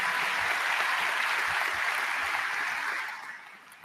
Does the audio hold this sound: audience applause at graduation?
yes